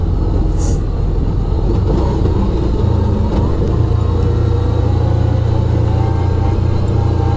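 A 2011 Kawasaki Teryx 750 Sport UTV engine-brakes while driving, giving a loud, steady low drone and rumble that holds for several seconds with faint rattles over it.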